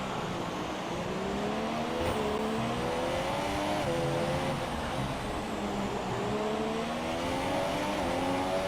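Formula 1 car engines in the F1 2017 racing game whine at high revs, rising and falling through gear changes and braking into corners, steady and prominent throughout with no voices.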